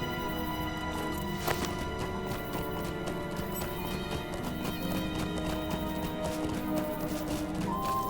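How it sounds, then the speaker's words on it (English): Horse hooves clip-clopping in the online fantasy game Lord of the Rings Online, a brisk rhythmic trot with a whinny near the start, set against steady game music. "Let me hop on my horse."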